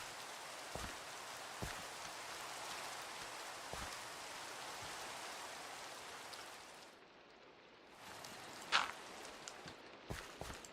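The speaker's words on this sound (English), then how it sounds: "It does rain a lot." Steady rain falling in a rainforest in the modded Minecraft pack GregTech New Horizons, a continuous hiss with a few sharper drop ticks, briefly thinning near the end before returning.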